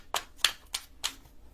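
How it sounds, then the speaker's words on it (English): Tarot cards being shuffled by hand, four crisp riffling bursts at an even pace, close and fairly quiet, with no voices. "Y'all might have to fast forward through the shuffling"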